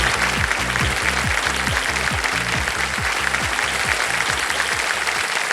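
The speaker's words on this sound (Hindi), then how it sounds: "जनता ने पहले ही ताली बजा दी।" Studio audience applauding on a televised quiz show, a dense sustained wash of clapping that stays loud and even throughout, with a repeating musical beat underneath.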